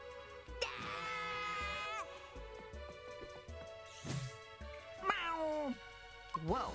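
Drawn-out, wailing cat meows in the video game Nickelodeon All-Star Brawl 2 repeat several times, stretched and somewhat synthetic, over a low background with occasional clicks.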